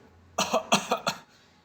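An old gardener lying on a cot gives a short burst of four or five dry, close coughs in quick succession, then falls quiet.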